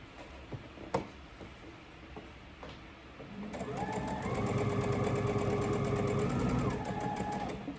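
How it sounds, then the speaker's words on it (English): A home sewing machine stitching fabric for a knit raglan shirt starts after a few soft handling clicks, then runs in a steady rapid mechanical whir with fast repeating needle ticks for about four seconds, close up. "I'm not stretching too much that my machine is gonna have trouble sewing"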